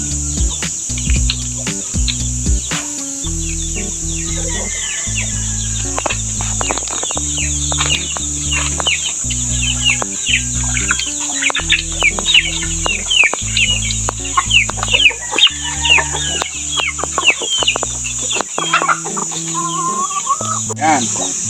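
Chickens cluck continuously in a farm coop's nesting area, many close, overlapping clucks and squawks over a constant high insect-like buzz, with no talk.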